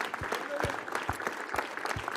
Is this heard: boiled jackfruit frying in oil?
no